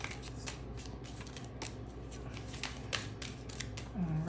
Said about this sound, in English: see what cards are speaking to us as we shuffle